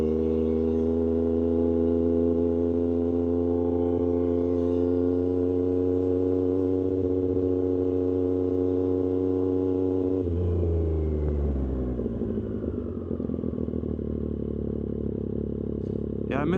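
A Triumph 765RS motorcycle with an aftermarket exhaust and tune idles and rolls slowly over gravel, a steady close harmonic engine drone that drops in pitch around the middle as the rider eases off, with faint crunching and wind.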